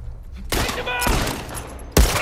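Bursts of gunfire in The Last of Us Part II, loud broadband blasts starting abruptly and sustained for over a second, then another sharp burst near the end, with a voice partly under the shots.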